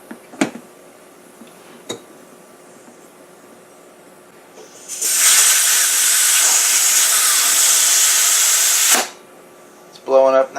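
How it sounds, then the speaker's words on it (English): An air compressor with an inflator tip pushes air into a wheelbarrow tire's inner tube: a loud, steady hiss of about four seconds that cuts off abruptly, with a few soft clicks and handling knocks before and after. "I put a tip on my air compressor there, and we'll get this nice and seated in here in the right position"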